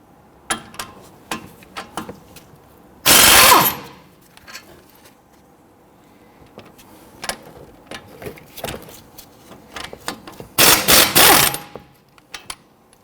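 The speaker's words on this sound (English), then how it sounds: "We want to go ahead and loosen and remove these two bolts here." On a 2010-2019 Ford Taurus, a ratchet with an 18mm socket removes the front brake caliper bracket bolts. Scattered clicks and clinks lead into two loud, brief bursts of rapid ratcheting.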